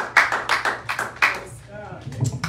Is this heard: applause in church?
yes